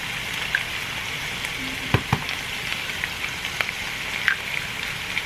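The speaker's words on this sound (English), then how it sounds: "I'm going to add 2 eggs." Two eggs cook in a hot pan for lobster butter fried rice, giving a soft continuous sizzle broken by scattered crackles and a couple of sharper pops.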